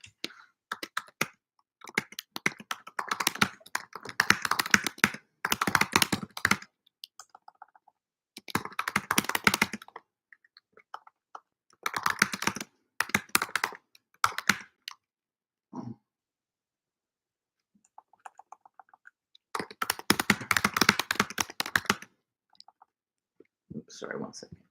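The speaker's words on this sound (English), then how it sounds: "Just typing this out." Computer keyboard typing during a university moral issues lecture, bursts of fast clicking keystrokes in several separate runs with quiet gaps between, close and moderately loud, no talking over it.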